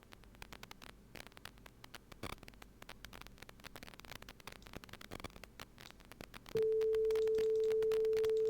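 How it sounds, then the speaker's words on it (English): A steady sine wave test tone played through GStreamer starts abruptly late on and holds a constant pitch, after a stretch of faint clicky static and hum. "Okay, we got our sine wave."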